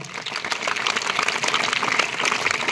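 A class of students applauds loudly in a motivational session, a dense, steady wash of many hands clapping together with no talk over it.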